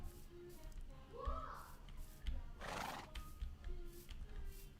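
Horses in a video game whinny loudly in long rising and falling neighs, with a few hoof clops and background game sounds, while a person talks quietly in between.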